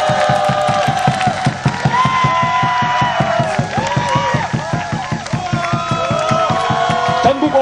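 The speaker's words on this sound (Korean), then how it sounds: "여러분의 자긍심과 기쁨을 여러분의 힘찬 박수 소리에 모아 주십시오" Union members at a KBS strike rally clap in a fast, steady rhythm, loud and sustained, with voices and cheering mixed into the beat.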